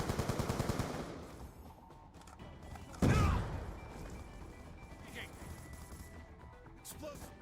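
C4 explosion in Black Ops 2 during a multiplayer match: one sharp, loud blast bursts over fading machine-gun rattle and rumbles away slowly, with faint voices and game sounds continuing after.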